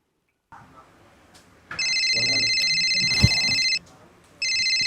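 A telephone rings with a warbling electronic trill in two bursts, close and loud, over faint background noise and a soft thud.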